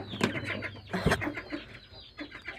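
Doves in a cage on a rooftop give soft throaty coos and flutters, close and fairly loud, in short irregular calls with no talk.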